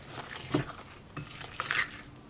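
A spoon stirs vegan chocolate chip cookie dough in a bowl, giving soft scraping and a few light clinks against the bowl in short bursts, with no talking.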